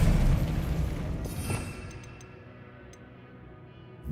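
A Bombarda spell goes off in Hogwarts Legacy, a loud booming blast that decays into a long rumbling tail, with a few faint ticks as it fades.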